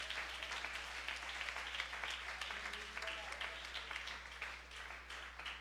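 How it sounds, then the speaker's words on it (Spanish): A church congregation applauds steadily, a dense wash of clapping with scattered sharper claps, heard at a moderate distance over a low steady hum. "déle ese aplauso al Señor en esta noche"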